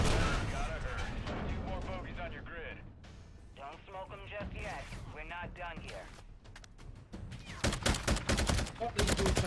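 Rapid assault rifle bursts ring out in Call of Duty MW3 Zombies with a G3 rifle, sharp crackling shots over continuous loud talk that intensify at the end.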